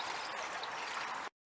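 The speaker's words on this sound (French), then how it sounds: "Et il y a un petit cours d'eau, juste ici." A small outdoor stream flowing steadily, a close, continuous bright trickle and babble of water that cuts off abruptly near the end.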